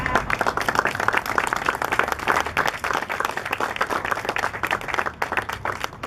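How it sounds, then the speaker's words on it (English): Audience at a press conference clapping steadily, a dense, continuous round of applause close by that lasts throughout without any talk over it. "We applaud his work for mental health."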